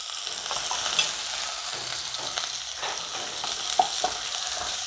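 Chopped onion and ginger-garlic paste frying in a pan, a bright steady sizzle with faint stirring clicks, close and even throughout, with no voices.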